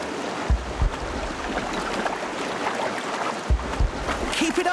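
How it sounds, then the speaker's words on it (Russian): A turbulent river rushes in a steady broadband wash, with a few low thumps breaking through the continuous roar. "Какая бурная река!"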